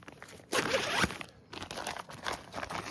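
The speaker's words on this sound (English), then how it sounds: "You got a zipper. We're going to open that now," A packing cube's zipper is pulled open by hand during backpack packing, giving a close, bright rasping run of about half a second followed by softer fabric rustling and fainter zip strokes.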